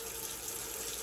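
Water runs from a tap onto hard shaving soap, a steady close hiss of flowing water filling the whole brief moment with no voices.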